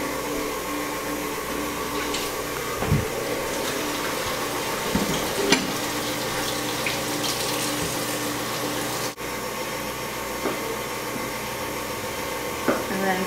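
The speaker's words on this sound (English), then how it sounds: "I'm going to rinse the zucchini." Zucchini rinsed under a running kitchen tap, a steady broad rush of water that holds on evenly, with a few faint clinks and knocks along the way and no talking.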